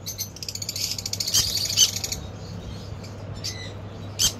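Pet conures and lovebirds at a bird seller's shop give a rapid series of shrill chirps for about two seconds, followed by a few sharp isolated calls over a steady low background hum.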